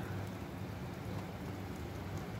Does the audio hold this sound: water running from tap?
no